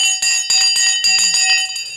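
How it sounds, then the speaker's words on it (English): Repeated rings of a small desk bell, a series of bright tones with sharp attacks spaced roughly every quarter second, loud and close, with no talking over them. "I forgot to ring the bell, didn't I?"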